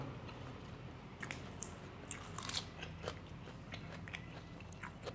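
Crispy fried chili eaten with fluffy catfish and mango salad gives close, quiet crunching bites and chewing, a few sharp crackles clustered in the middle, with no talk.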